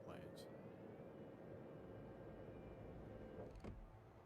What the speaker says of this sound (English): More friggin' planes.